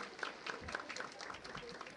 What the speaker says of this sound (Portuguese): Uma salva de palmas para o boi garantido, o boi do coração na testa